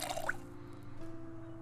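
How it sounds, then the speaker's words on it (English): In the video game Project Zomboid, a water bottle is filled with a brief splashing drip at the start, then a faint steady background hum alone. "Fill the water bottle."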